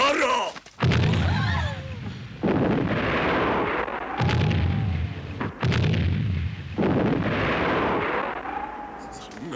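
Cannon artillery fires in a period film, with several heavy booming blasts spaced a couple of seconds apart, each followed by rumbling debris, while voices shout in between.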